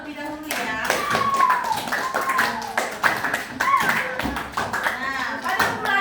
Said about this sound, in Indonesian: boleh tepuk tangan terlebih dahulu ya.